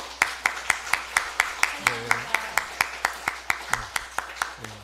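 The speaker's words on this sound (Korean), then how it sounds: "우리 박수로 축하해 주시기 바랍니다" Church congregation clapping at a Sunday worship service, heard as a steady, evenly paced beat of sharp claps running throughout, with voices murmuring underneath.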